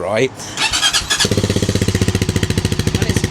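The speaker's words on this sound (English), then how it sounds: "So here's the sound of the standard exhaust" A brand new motorcycle with its standard exhaust starts up after a brief squeal, then settles into a close, loud, even idle with a rapid regular exhaust pulse, with a short spoken word just before.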